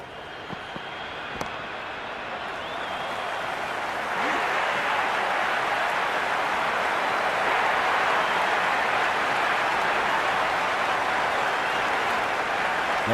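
Stadium crowd noise from a Big Bash League cricket video game, Sydney Sixers against Adelaide Strikers, rises after a few seconds into a dense, steady roar that holds to the end, with no speech over it.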